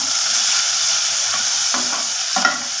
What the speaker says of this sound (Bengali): গরম তেলটা ঢেলে দিব পরিমাণ মতন তেলটা গরম হয়ে গেছে কুচি করা পেঁয়াজ দিয়ে দিব